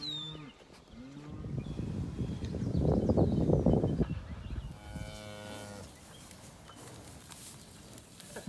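Cattle moo repeatedly in a pasture as a bull is brought in among the cows: several long, loud lowing calls up close, then fainter calls with some rustling in the background.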